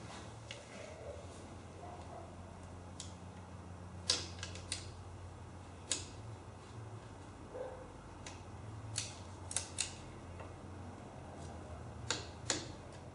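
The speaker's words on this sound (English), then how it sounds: "now I'm going to torque the transmission plug" A torque wrench tightens the transmission plug on a 2017 Beta 390RRS motorcycle during an oil change, giving scattered sharp ratcheting ticks and clicks at irregular intervals, close but quiet over a low background hum.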